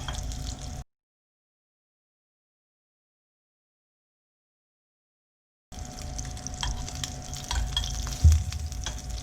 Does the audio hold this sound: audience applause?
no